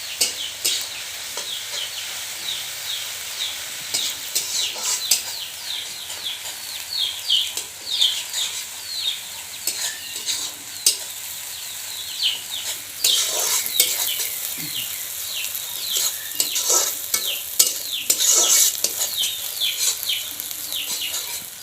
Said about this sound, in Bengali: জিরেটা অল্প ভেজে নেব।